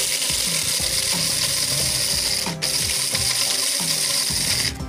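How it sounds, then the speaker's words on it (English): Roasted coffee ingredients ground by hand in a grinder, a steady ratcheting, gritty mechanical grinding repeated in quick strokes against a continuous background hiss. "Put it here just to cool down and to grind it. Here. And start grinding."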